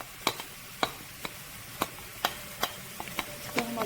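Chopped onions going into hot oil for a homemade shakshuka, giving a faint sizzle broken by about nine sharp stirring clicks and scrapes, spaced roughly every half second, alone with no voices.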